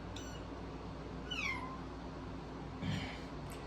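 A cat meows twice, a short rising-falling call and then a softer second one, close by over a steady indoor hum with no talking.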